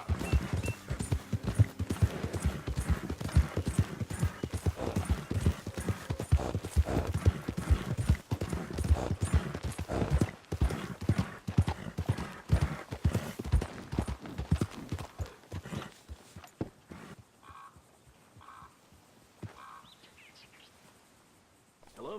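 Rapid horse hoof clip-clops in a video game, steady and close for most of the stretch, then fading out to near quiet near the end with faint bird chirps.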